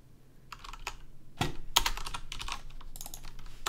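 Fingers type on a laptop keyboard in quick irregular bursts of close, crisp clicks, starting sparse and growing busier with a few heavier key presses.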